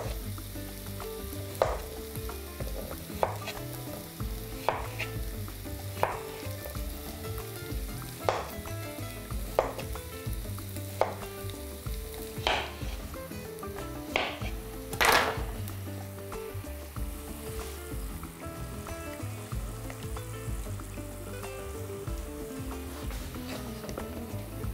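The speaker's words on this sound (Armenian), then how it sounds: "Եվ այդ տապակի մեջ խաշում ենք կարտոֆիլի տափողակներ։" Slices of potato fry in a pan with a steady close sizzle, broken by a dozen sharp clicks and scrapes as they are turned, one louder clatter near the middle. Soft music plays underneath throughout.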